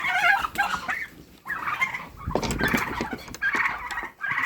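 Farmyard poultry call close by: turkeys gobbling in rapid bursts alongside a loud, noisy gander honking, repeated calls overlapping with short pauses between them.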